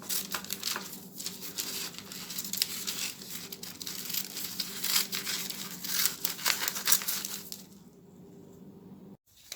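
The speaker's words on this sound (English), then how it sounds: "you just follow the lines and cut out the circle" Scissors cutting a paper circle to line a cake tin, repeated crisp snips and rustling paper in an irregular rhythm, close and fairly quiet, ending in near silence.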